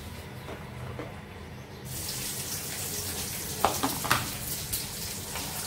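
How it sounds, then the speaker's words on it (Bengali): Chopped vegetable stalks going into hot oil with browned onion in a pan, starting as a low background hiss that turns into a loud, dense sizzle with a few crackles and no voices. "পেঁয়াজ লাল লাল হয়ে গেছে, দিয়ে দিলাম তেলে। ডাটা তেলে দেবো শুধু তেল আর পেঁয়াজ দিয়ে"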